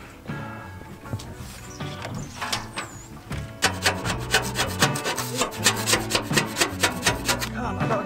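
Rust being rubbed and scraped off the steel stern deck of a cruiser-stern narrowboat, close and fairly loud, with rhythmic rasping strokes that grow steadier and more regular in the second half, no talk over it.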